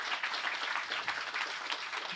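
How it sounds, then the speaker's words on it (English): Audience applause at a signature sign unveiling event in Ajax, a brief dense patter of clapping from a crowd, steady and moderately loud throughout. "give them another round of applause"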